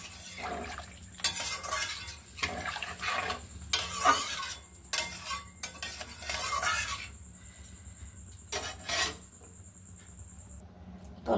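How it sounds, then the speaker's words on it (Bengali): Hilsa fish and potato curry is stirred in a pot after water goes in, a series of scraping, sloshing spoon strokes with metallic clinks, close and uneven, separated by short quiet gaps, no talk. "এবার আমি জল ঢেলে দিচ্ছি। ভালো করে নেড়ে চেড়ে"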